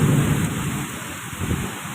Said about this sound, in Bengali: কি পরিমাণে বৃষ্টি হচ্ছে উল্টো পাল্টা হাওয়া চলছে ঝড় উঠেছে